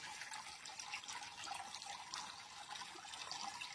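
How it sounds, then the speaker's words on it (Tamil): Steady trickling and splashing water from a perennial spring at a temple on Kanjamalai hill, Salem district, continuous and fairly soft, with no voices. "ஊற்று தண்ணி எப்போவுமே வத்தாமல் இருக்கிற ஊற்று தண்ணி"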